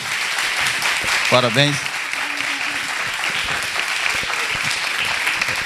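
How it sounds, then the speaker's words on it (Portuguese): An audience applauds a group of young women after a performance at a Praxis 2017 organizational communication event. Even, continuous clapping fills the room while a voice briefly speaks over it. "eu gostaria de pedir a todos uma salva de palmas para as minhas meninas"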